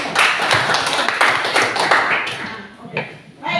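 Classroom applause from a group of pupils, a short burst of clapping with voices mixed in, fading after a few seconds.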